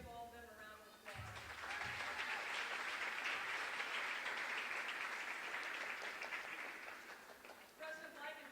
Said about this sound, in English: So if we could please just give all of them a round of applause.